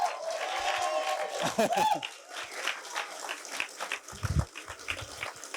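Audience applause fills a F*ckup Nights talk venue, a dense, steady clapping wash near and loud, with shouted voices and a rising whoop rising over it early on.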